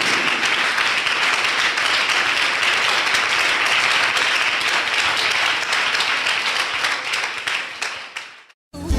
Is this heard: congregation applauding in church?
yes